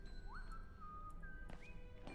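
A character whistles in the video game Syberia: The World Before, three short rising whistle notes that are faint and thin over a steady low background hum.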